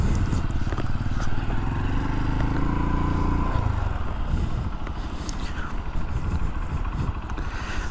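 A motorcycle engine idles and rumbles on a quiet road as the bike is turned around, a close, steady low drone with a brief rising tone before settling, with some clattering noise over it.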